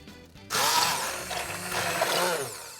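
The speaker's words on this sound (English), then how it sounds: "so lucky we have an immersion blender" An immersion blender whirs loudly through enchilada sauce, starting abruptly after a brief quiet moment and then running as a steady, close motor roar that shifts slightly in pitch as it churns.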